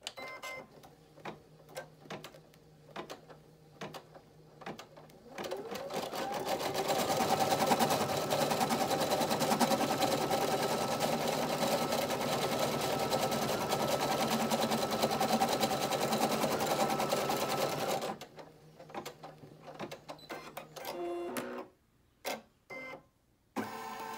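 An embroidery sewing machine stitching a tack-down outline for a face on a lovie, a steady fast mechanical whir lasting about twelve seconds, framed by softer clicks and handling sounds before and after.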